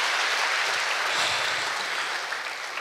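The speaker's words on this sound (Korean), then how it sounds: "여러분 다시 한번 뜨거운 박수 부탁드립니다." A concert audience at Korea University applauds, a dense, steady wash of many hands clapping that fades slightly toward the end.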